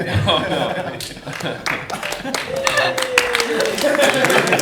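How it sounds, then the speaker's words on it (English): Audience clapping after a horror film screening Q&A at a Romford event, bursts of hand claps with some chuckling and overlapping voices, fairly close and lively. "I think they deserve a round of applause."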